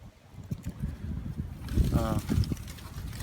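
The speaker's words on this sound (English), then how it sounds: "there's the wind blowing the other way now." Wind blows across a rocky hiking trail in the Mammoth Cave area, producing a steady low rumble of gusts against the microphone that grows stronger midway, with a voice briefly audible underneath.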